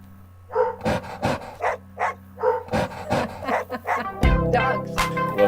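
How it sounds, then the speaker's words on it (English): Dogs bark in a steady counting rhythm over a looping hip-hop beat in a children's song. There are about a dozen short barks, evenly spaced and loud, with the music running underneath. "we got doggy barks to help us count"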